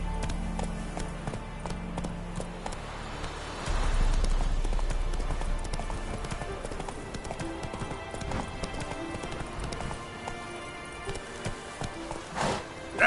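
Roach, the horse in The Witcher 3, gallops with quick, steady clip-clop hoofbeats over rumbling ambient sound, fairly close and continuous, with a sharp hit near the end.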